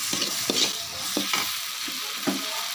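Food fries in a pan while preparing chutney, a continuous close sizzle with several quick stirring scrapes spaced through a short stretch, no voices.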